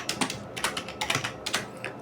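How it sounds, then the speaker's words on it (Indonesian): Text typed on a computer keyboard into a Microsoft Word document, a close series of quick key clicks in short uneven bursts with no voice over them. "Saya akan ketik di sini misalkan menyalin teks."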